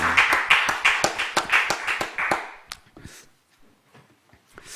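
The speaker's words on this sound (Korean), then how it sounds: "하나님께 영광의 박수 올려드리겠습니다" A church congregation claps together during a Friday late-night prayer meeting, sharp rhythmic claps ringing out for over two seconds before fading into a quiet, reverberant room.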